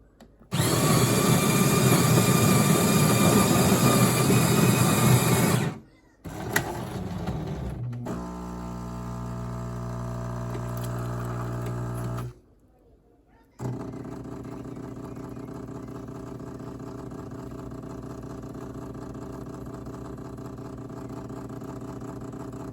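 A Jura coffee machine grinds Kona coffee beans with a loud, harsh whir for about five seconds, pauses, then gives a tonal pump whine and, after a brief silence, a steady humming brew that runs to the end, with no talking.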